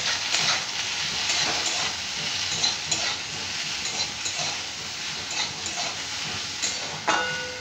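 Kachra frying in hot oil while being stirred, a steady bright sizzle with soft scraping strokes through it, close and even throughout.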